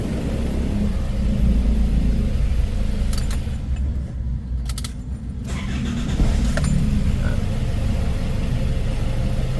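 Isuzu 4JX1 diesel engine idling after an injector rebuild, a steady low rumble close by that runs the whole time, with a brief lighter clatter partway through.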